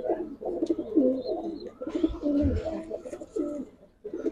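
A male silver Musaldom pigeon coos close by in repeated throaty rolling phrases, loud and continuous with brief pauses, while a voice speaks quietly now and then.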